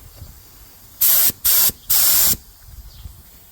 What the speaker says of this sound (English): But if I sprayed it on something, maybe you could see it a little better.